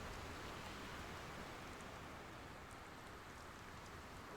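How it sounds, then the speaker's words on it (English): Rain falls in a sailing video game, a soft, steady hiss of droplets with faint scattered patters, continuous and even throughout with no voices. "It's raining."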